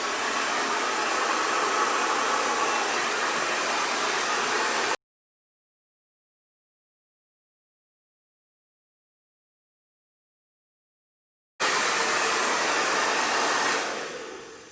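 A hair dryer fitted with a diffuser runs on high heat and high speed, used for hover diffusing naturally wavy hair. It blows loud and steady for about five seconds, cuts to silence, then starts again and begins winding down near the end.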